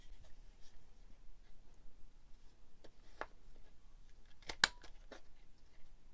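Scissors cut into junk journal paper, notching pages and rounding their corners: a few faint, crisp snips spaced apart in a quiet room, with no talking.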